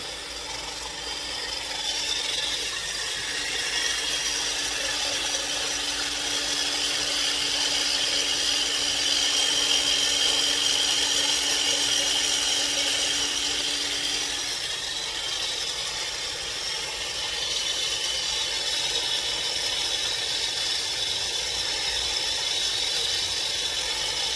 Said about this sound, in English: I like to use this to beat my eggs and make them into the nice little meringue thing that they do